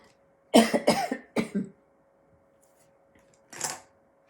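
A quick run of three or four harsh coughs close to the microphone, a pause, then one more single cough.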